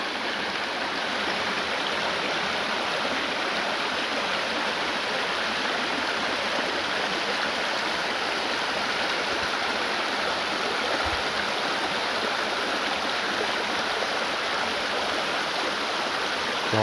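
Steady, full roar of a waterfall and rushing stream at the final section of Goose Creek Falls in a steep ravine, a dense wash of falling water that stays constant and close throughout, with no voices.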